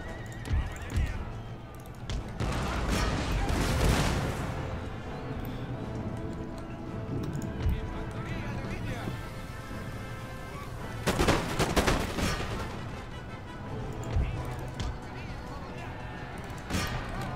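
Battle in the strategy game Empire: Total War with musket volleys crackling amid a continuous din of combat, horses whinnying and hooves, louder bursts of gunfire near the start and again later.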